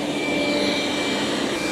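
Dreame D10 Plus Gen 2 robot vacuum running at maximum suction, a steady loud whooshing whine heard alone at close range.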